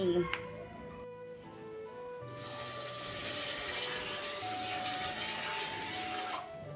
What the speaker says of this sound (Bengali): চলো জলদি জলদি স্নান করি